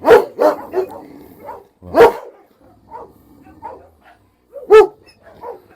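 A male Anatolian Shepherd dog barks sharply in bursts, a few loud close barks separated by pauses, with softer growling yips in between.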